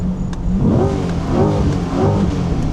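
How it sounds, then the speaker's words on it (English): A C8 Corvette engine revs up hard with a rising growl, drops back, then surges again in repeated throttle blips, loud and close. "Let's do one more rev here"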